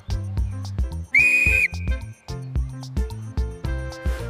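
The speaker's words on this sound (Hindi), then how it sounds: "ये है सीटी।" A toy whistle gives one shrill, steady blast of about half a second over a bouncy children's music track, loud and close.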